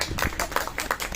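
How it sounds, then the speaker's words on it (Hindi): An audience at a medical education conference claps briefly to welcome a speaker, producing a short run of distinct, fairly close claps. "हम तालियों से तो उनका स्वागत कर सकते हैं।"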